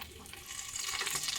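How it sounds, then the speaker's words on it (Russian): Zucchini slices coated in cornstarch and dipped in egg sizzle quietly in oil in a pan, a soft steady crackling and hissing that swells slightly with a few light pops and no talking. "Жарила кабачки на масле с двух сторон."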